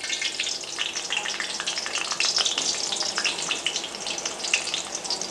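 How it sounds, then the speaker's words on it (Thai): Shredded galangal frying in hot oil, a continuous close sizzle with crackling spits throughout, no voices. "พอน้ำมันร้อนเราก็จะใส่ข่าที่เราหั่นฝอยไว้ลงไป"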